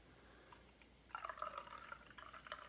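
Very dark brown beer pours into a glass, a faint liquid trickle and splash that starts about a second in and continues softly to the end.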